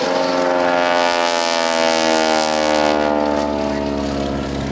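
An aircraft engine drones loudly and steadily at the 2012 Cleveland National Air Show during a wing-walking performance, one sustained buzzing roar with a slight pitch sweep that fills the whole stretch.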